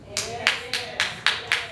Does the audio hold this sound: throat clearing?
no